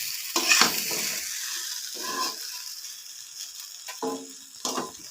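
Noodles are tossed and stirred in a hot pan, giving intermittent scraping and rattling bursts over a faint sizzle, with quiet gaps between strokes.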